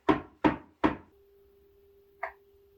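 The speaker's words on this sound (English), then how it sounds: "Can you give me a knock?" Three sharp, evenly spaced knocks ring out loud and close during a paranormal investigation in a reportedly haunted family home, followed by a steady low hum and a single fainter knock.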